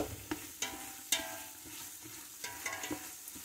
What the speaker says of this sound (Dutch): Na 3 minuutjes gooi je het gekneusde citroengras erbij.